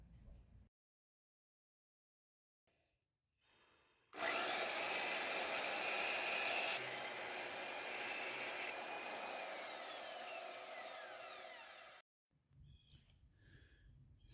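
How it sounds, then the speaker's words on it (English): A bandsaw slicing through a carbon fiber sheet for a knife inlay, a loud steady whining cut lasting about eight seconds after quiet handling noises, then stopping abruptly, with no talk. "So the next step is for me to go and cut this out with a bandsaw."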